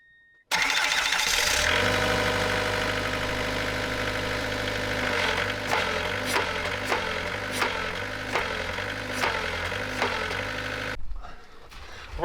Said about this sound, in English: So I'm gonna try go start the machine.